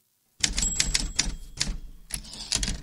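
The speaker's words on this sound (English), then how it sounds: "Do you like the typewriter? I love the typewriter." Typewriter sound effect: a quick run of sharp mechanical keystrokes and clacks in clustered bursts, close and crisp after a brief silence.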